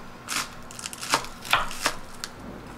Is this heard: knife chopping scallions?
yes